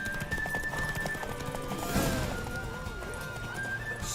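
A mare in The Witcher 3 during a horse race: galloping clip-clop hooves run steadily under game music, with a short whinny rising in the middle, moderately loud.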